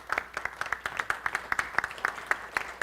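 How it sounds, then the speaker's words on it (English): A small audience at a work camp gathering claps in a round of applause, with distinct, fairly sparse hand claps in a quick uneven rhythm and no talk over them. "give these guys a round of applause"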